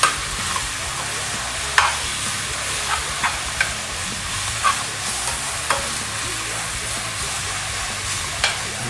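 Baby spinach wilting as it sautés in a pan for sausage lasagna, a continuous bright sizzle with scattered crackles and a few light stirring knocks, close and steady with no talk.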